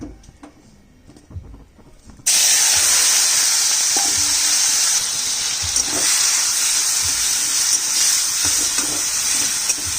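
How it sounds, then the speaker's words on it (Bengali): Cleaned shrimp drop into hot oil in a pan and set off a sudden, loud, continuous sizzle that follows a quiet start and keeps crackling steadily close up. "চিংড়ি মাছটা ধোয়া বাছা হয়ে গেছে এবার তেলের মধ্যে ছেড়ে দেব"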